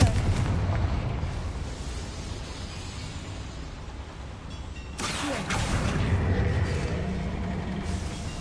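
Confringo blasting spell going off in Hogwarts Legacy during a cave exploration, a dense roaring explosion with a second loud burst midway, layered over rumbling game ambience.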